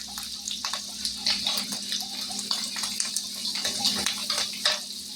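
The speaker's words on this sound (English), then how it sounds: "And then we'll pour in the beef broth." Beef broth pours into a skillet where mushrooms are frying, a steady close splashing gush over a faint sizzle, running without pause for several seconds with no voices.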